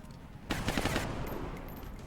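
Gunner's suppression fire in the video game XCOM: Long War: a sudden burst of rapid automatic shots lasting about half a second, loud over a steady game background that carries on afterwards.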